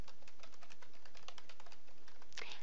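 Computer keyboard typing, a run of quick, light, evenly spaced key clicks close by with no voices.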